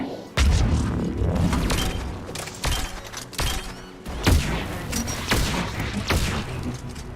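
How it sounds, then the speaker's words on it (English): Anti-aircraft guns firing in Mass Effect 3 Legendary Edition: a run of heavy, close booming blasts and thuds in irregular bursts, loud and continuous for several seconds with no talking. "AA guns ahead of us."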